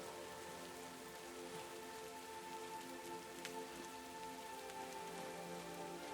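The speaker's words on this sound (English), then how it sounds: "The sound of raindrops hitting the surface of the rock pools created a gentle," Raindrops patter steadily on the surface of seaside rock pools, a soft, continuous hiss of countless small drops with occasional sharper taps, heard alone.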